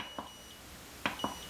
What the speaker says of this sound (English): First you turn it on and all the lights come on, then it gives you the beep signal.